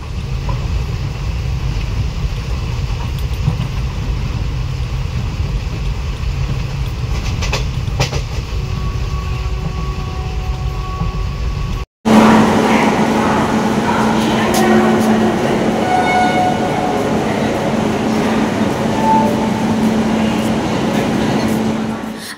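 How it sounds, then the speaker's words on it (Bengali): The Lalgola–Sealdah passenger train runs at night with a continuous loud rumble and rattle of the carriages, an abrupt cut partway, then a brighter clattering run with faint tonal squeals. "রাত 11:20 আমাদের ট্রেনটা ছাড়লো আর এখান থেকে আমাদের জার্নিটা স্টার্ট হলো।"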